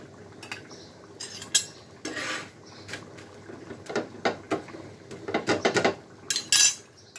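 A metal spoon breaks cooked chicken meat into small pieces, scraping and clinking against the dish in irregular, close taps and scrapes.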